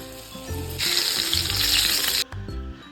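Loud, steady sizzling of flour-dredged crucian carp frying in hot oil, with a brief dip near the end before the crackle resumes.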